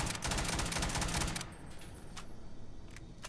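A modded gun in the video game Starfield fires a rapid automatic burst for over a second, loud and close, then stops, leaving a few scattered clicks and mechanical clatter in a quieter tail.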